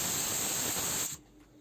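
A pressure cooker cooking chicken lets out a loud, steady hissing jet of steam that cuts off abruptly after about a second, leaving quiet behind.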